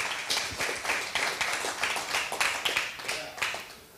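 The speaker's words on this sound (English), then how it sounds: "You can clap." A church congregation claps during a sermon, scattered and uneven handclaps rising and falling in loose bursts at moderate distance.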